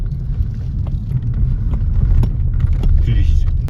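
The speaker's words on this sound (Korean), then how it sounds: "잡소리가 되게 많이 나요. 실내에서." Interior of a Kia Stinger driving over a rough, poorly surfaced road, with a steady low road rumble and scattered small clicks and rattles from the cabin trim, fairly close and continuous throughout.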